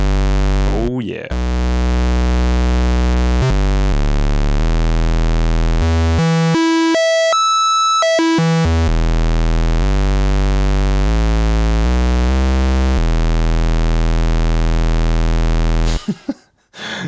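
MFB Dominion 1 analog synthesizer playing its pulse wave oscillator, loud buzzy sustained tones stepping through pitches with a higher bright passage in the middle, alone without talk.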